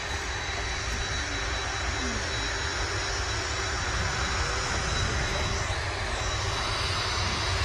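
An Etihad Boeing 787-10 Dreamliner starts its takeoff roll on runway 05 left at Manchester Airport, a loud continuous jet engine roar holding steady throughout.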